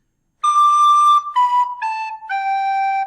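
A Beethoven motif is played backwards on a clear, whistle-like melodic instrument, four notes stepping downward, the first held longest, heard alone and close.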